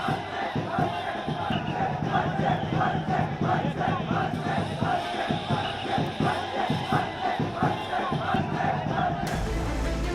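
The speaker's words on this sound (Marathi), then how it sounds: "मुंबई महानगरपालिकेच्या निकालानंतर प्रचंड जल्लोष पाहायला मिळाला" A large crowd celebrates after Mumbai municipal election results, a dense roar of many voices with rhythmic chanting and shouts pulsing steadily, and a brief burst of noise near the end.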